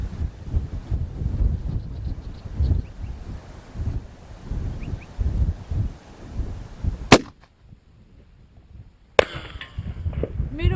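.223 Sako 85 rifle fired at long range outdoors, a single sharp loud crack followed by a brief quiet gap, then a second sharp impulse, with steady wind noise and some talk around it.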